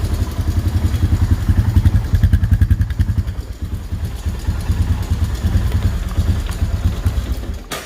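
A four-wheeler ATV engine fitted with a snorkel idles steadily nearby, a loud, even rumble with a rapid pulsing chug and some light clatter, with no voices.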